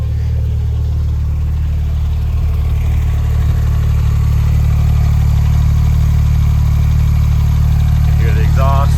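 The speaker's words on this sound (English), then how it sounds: "Hear the exhaust. Again, nothing too crazy when it's sitting and idling" A 2007 Porsche 911 Turbo idles steadily with a deep, low exhaust rumble throughout, fairly loud and close, with no revving.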